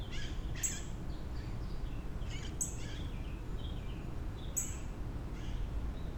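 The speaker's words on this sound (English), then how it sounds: "A beautiful cardinal bird is right across from me at the moment, sitting on that branch." A cardinal on a branch gives three sharp high chirps at regular intervals, moderately distant over a steady outdoor background.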